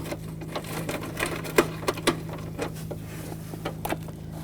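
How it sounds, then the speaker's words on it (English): Several sharp metallic clicks from an 8mm socket ratchet, spaced irregularly over a steady low hum, as screws come out of a 2000-2006 BMW X5 headlight; close and fairly quiet with no talking. "Use the same 8mm socket. Take these out."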